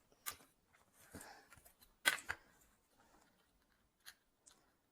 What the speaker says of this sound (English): I will cut this time with scissors.